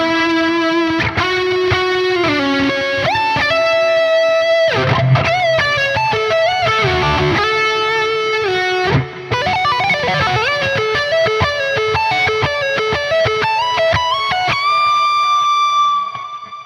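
High-gain distorted electric guitar through a Soldano SLO-100 amp plugin, played as sustained chords and melodic lines with a long reverb tail, loud and continuous with no talking.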